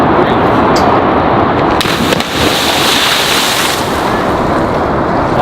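A person jumps into open water, likely off a boat, with a loud churning rush of water and wind buffeting the microphone throughout, a brief dip and then continuous splashing and roar.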